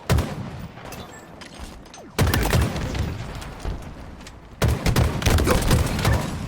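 Rocket explosions in a competitive video game match: two sharp, loud blasts a couple of seconds apart, each followed by a rumbling tail of game noise.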